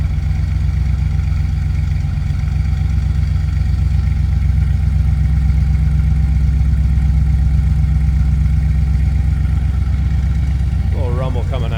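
A 1965 Ford Thunderbird's 390 V8 idles with a steady, deep rumble, close and loud, holding an even low throb throughout with a brief higher rise near the end.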